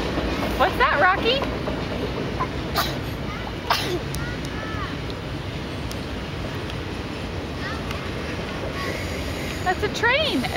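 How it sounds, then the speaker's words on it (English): A train rumbles past with steady low roar and occasional high wheel squeals, while voices talk over it. "That's a train, a choo-choo."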